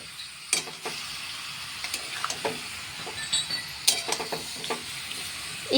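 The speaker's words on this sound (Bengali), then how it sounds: "এবার এটাকে একটু তেলের মধ্যে নাড়াচাড়া করে নেব।" Raw mango pieces for a sweet-sour mango pickle are stirred in hot frying oil, giving a steady soft sizzle broken by sharp, irregular scrapes and clinks of the spoon against the pan, with no talking.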